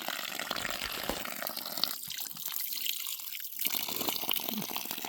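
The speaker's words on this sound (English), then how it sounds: "This is the original artesian well." Water trickles and drips steadily from an old artesian well outdoors, close and fairly quiet, with a brief softer lull partway through.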